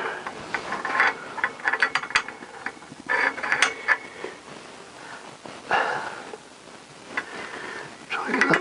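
A ratchet wrench tightens a nut on a 4-into-1 exhaust being fitted to a Honda CBR1000F motorcycle, giving bursts of rapid clicking with short pauses, close up, while someone talks over the work.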